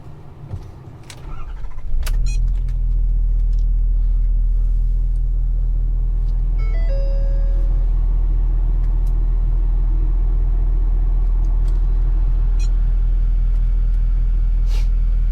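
A 2012 Ford F-350 Super Duty pickup truck engine cranks and catches about two seconds in, then settles into a loud, steady, deep idle rumble for the rest of the clip, with no talking.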